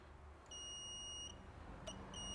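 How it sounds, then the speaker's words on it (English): Multimeter continuity tester beeping against a car's earth point in a garage: a steady high-pitched tone held for about a second, then a brief chirp and a second tone starting near the end, all fairly loud over quiet background. "this should beep because I've got it on an earth"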